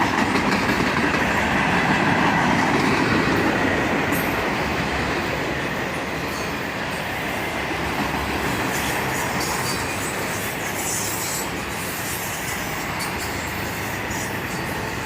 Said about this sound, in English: Now we have a small cut of boxcars.